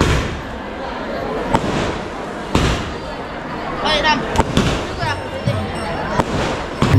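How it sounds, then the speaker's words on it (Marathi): At a temple's annual festival procession, firecrackers and fireworks crack and pop in sharp bursts over a dense crowd roar, with several loud bangs spaced through the din and people talking underneath. "आता फटाक्यांची आतिषबाजी केली जाते बघा"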